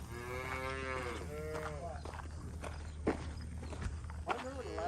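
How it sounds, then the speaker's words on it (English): Dairy heifers on a Midwest dairy farm moo repeatedly in long drawn-out calls, with footsteps and shuffling among the cattle and a steady low hum underneath. "we're going to be feeding these heifers now"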